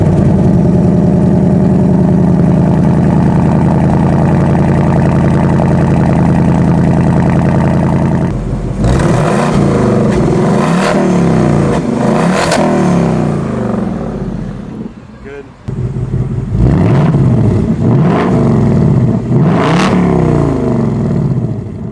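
A 2024 Mustang GT with active exhaust on a cold start settles into a steady, loud idle, then gives several sharp rising revs in quick succession, each throttle blip roaring up and falling back to idle.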